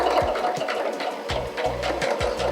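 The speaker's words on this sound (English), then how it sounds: "I'm going to stitch to the marking, reverse, pull the thread over and stitch the rest of the seam." A sewing machine runs steadily while stitching a dress seam, giving a fast, even mechanical whirr and rhythmic needle clatter at close range, with brief pauses and restarts.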